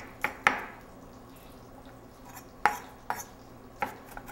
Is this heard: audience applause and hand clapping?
no